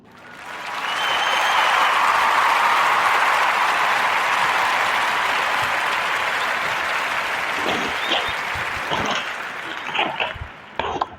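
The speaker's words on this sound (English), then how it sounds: "we're going to give a warm narrative round of applause for those brothers, Pernell and Rod" A podcast audience gives a long, warm round of applause that swells, holds steady, then thins into scattered final claps.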